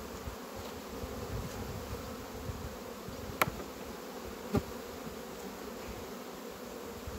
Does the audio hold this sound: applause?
no